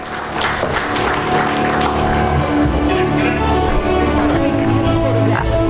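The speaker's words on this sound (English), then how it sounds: "Can we give a huge round of applause, everybody together?" A conference audience at a national skills conference claps together after a panel, a loud dense applause that holds steady throughout.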